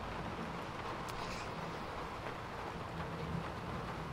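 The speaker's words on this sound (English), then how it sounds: "Also gives you rain sounds when you're indoors" Steady rain from the True Storms mod in Fallout 4, heard from indoors: a constant, even broadband hiss with no distinct drops, holding level throughout with no talk.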